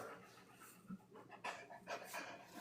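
A dog pants indoors in quick, faint, breathy puffs of irregular strength, close but quiet against a low background hum.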